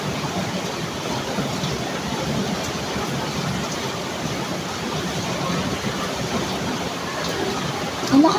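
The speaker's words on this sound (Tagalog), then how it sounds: "Ang lakas ng ulan, guys." A heavy downpour makes a dense, continuous hiss-roar that holds at the same loudness for the whole stretch, with no pauses and no voices over it.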